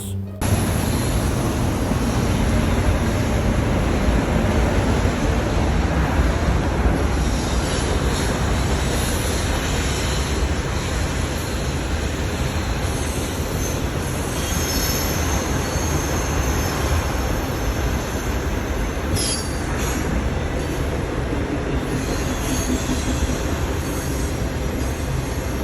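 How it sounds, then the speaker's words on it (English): Long freight train rolling past nearby, a loud continuous rumble of railcars with high metallic wheel squeals rising and fading throughout. "So now I present to you the Endless Freight Train"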